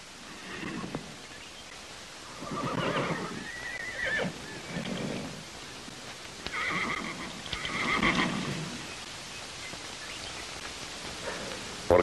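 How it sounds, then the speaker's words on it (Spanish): A black horse neighs and whinnies several times in short bursts, close by, with faint hoof clops and rustling between the calls and no talking. "Charlie, apareje ese caballo negro."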